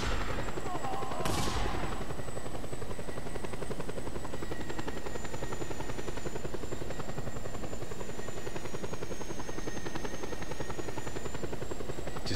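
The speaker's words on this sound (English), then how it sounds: "the game is spamming choppers at me now" Helicopters in the video game Just Cause 2 whir steadily throughout with a fast thudding rotor chop, opened by a brief sharp burst of gunfire near the start.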